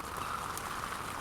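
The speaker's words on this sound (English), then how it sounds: "The rain's coming right in the door." Steady hiss of rain falling close by while wild camping at Loch Long, a continuous wash of drops pattering on a surface with no voices.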